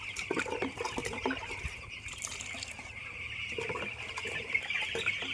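Domestic chickens clucking close by at a water and feed spot, several soft, irregular clucks over a constant high insect-like drone.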